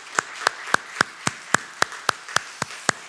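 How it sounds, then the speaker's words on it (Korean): A Friday prayer service congregation claps in a steady, even rhythm, with about eleven sharp, evenly spaced claps over a low room hum and no voices. "은혜의 주를 하나님께 박수로 영광 돌리겠습니다"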